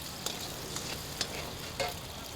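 One egg frying in hot oil in a pan for sukiyaki, a dense, steady crackling sizzle with a few brief louder pops.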